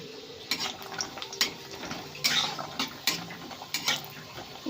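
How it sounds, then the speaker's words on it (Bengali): Lentil dumplings (bori) frying in hot oil in a wok, giving a steady crackling sizzle with sharp spatter bursts and scraping clinks from stirring, close and alone with no talk. "এখন যে বড়িটা রেখেছিলাম ওটা ভেজে নেব।"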